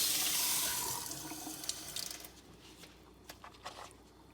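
Running sink water gushes loudly over calf fries as they are rinsed, then the tap cuts off, leaving soft wet squishes and drips close by.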